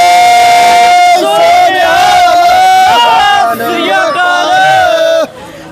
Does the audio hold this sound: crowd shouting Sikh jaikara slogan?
yes